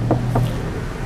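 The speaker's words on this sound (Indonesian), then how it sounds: "Jadi untuk road noise-nya berkurang sekali" Low, steady rumble of road noise inside a moving car, with a couple of faint brief knocks over the constant droning hum.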